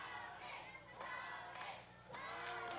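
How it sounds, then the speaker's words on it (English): A live wrestling crowd at an OVW Christmas Chaos cage match cheers and shouts in swelling waves, distant and roomy, with a few louder bursts rising over a constant roar. "this audience, the OVW faithful cheering on Tony Gunn"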